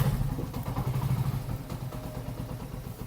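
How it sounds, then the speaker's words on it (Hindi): A 70cc motorbike engine idles close by with a steady low putter and light mechanical clatter, running alone without talk, on a cold trip from Islamabad toward frozen Banjosa Lake. "बाइक को पहले स्टार्ट कर देते हैं ताकि"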